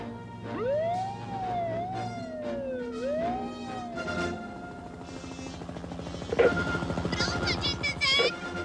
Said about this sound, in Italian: Accendi la sirena!